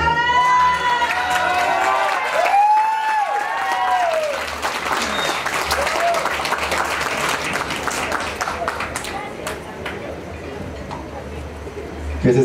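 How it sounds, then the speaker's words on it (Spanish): Guests at a child's birthday party clap and cheer, a sustained burst of crowd applause with a few whoops, under a loudspeaker voice that talks over the clapping. "Que se escuche más fuerte ese aplauso para sus papás."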